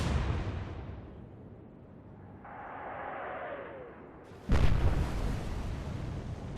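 Naval guns firing in the Atlantic Fleet video game, a soft whooshing shell flight under a low rumble, then a sudden loud boom of the shell blast followed by lingering rumbling.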